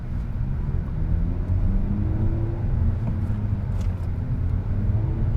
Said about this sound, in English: Going to ease up off the clutch a little bit. Give it a bit of gas.